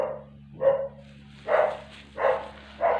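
Dogs bark outdoors in a slow series of four or five separate woofs, moderately loud and a little distant, over a low steady hum.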